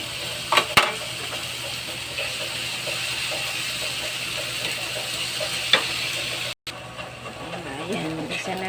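Dried anchovies hit a pan of onion, tomato and garlic, sizzling and frying steadily with a few sharp clinks of a utensil against the pan early on, close up.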